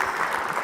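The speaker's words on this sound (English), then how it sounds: "That's your applause." A conference audience at an industry day event claps in a brief, dense burst of applause, steady and fairly loud for under a second.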